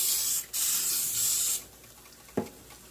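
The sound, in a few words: spraying cooking oil onto a grill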